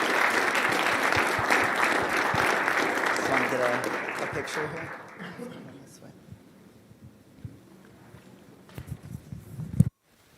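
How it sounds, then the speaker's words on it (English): Applause for school swimmers at a board meeting, a dense burst of clapping that thins and fades out over several seconds, leaving scattered claps, footsteps and a faint voice before a final thump. "So it's a round of applause for our awesome swimmers."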